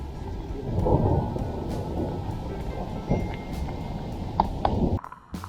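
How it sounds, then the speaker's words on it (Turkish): Dense, heavy rain pours continuously outdoors at a dam, with low rumbling underneath, ending in a sudden cutoff near the close. "Ya çok inanılmaz bir yağmur var ya."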